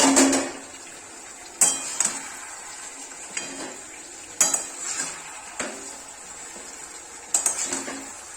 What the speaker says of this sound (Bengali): ললিপপগুলোর মধ্যে গ্রেভিটা মিশিয়ে নিয়েছি